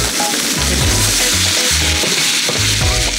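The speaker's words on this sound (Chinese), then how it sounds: "我们牛排在煎的时候呢" Steak searing over high heat in a pan outdoors at a mountain campsite near Jialuo Lake, giving a loud steady sizzle with bursts of crackling and sputtering fat and no talking.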